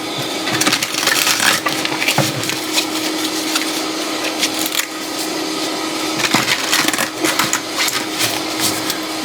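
Close, continuous riffling of a deck of cards during a shuffle, rapid papery clicking in repeated bursts over several seconds with short breaks, no voices.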